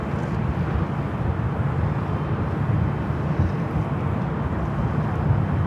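Heavy airliners at Los Angeles LAX, including a LATAM Dreamliner and a Singapore 777-300ER, make a steady, broad jet-engine roar that holds loud and even throughout.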